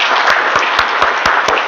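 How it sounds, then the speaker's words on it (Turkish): A lecture audience claps for a professor taking the stage, steady dense applause with a few sharper, louder claps standing out at a regular pace. "da bir alkış rica ediyorum."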